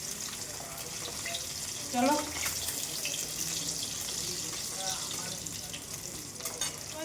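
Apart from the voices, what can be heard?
running tap water while washing dishes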